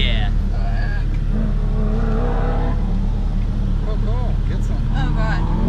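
A 2017 Audi S3 at an autocross accelerating hard, its engine droning loud and steady from inside the cabin while people talk over it throughout.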